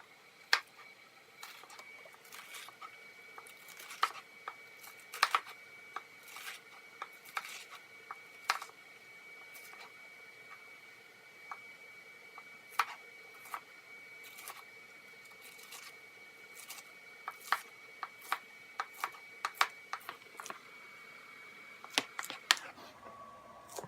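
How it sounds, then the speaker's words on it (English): Sharp knife chops of lettuce on a cutting board come as scattered crisp taps, irregular and close, some clustered in quick bursts, over a quiet kitchen background. "We're going to begin chopping that up."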